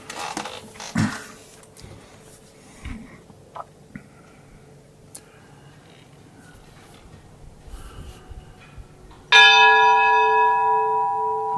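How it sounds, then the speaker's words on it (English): The bell of St. Michael of Tbilisi Church strikes once with a loud, bright clang that rings on and slowly decays, after scattered faint background noises, just before Easter. "The bell is ringing on St. Michael of Tbilisi Church above me."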